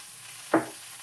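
Chicken frying in hot oil, giving a sharp spitting pop midway and another at the end over a quiet, steady sizzle, with no one talking.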